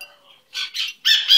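A pet bird on a couch gives bright, close chirps and tweets in several bursts. The calls grow louder and denser toward the end, with no talking over them.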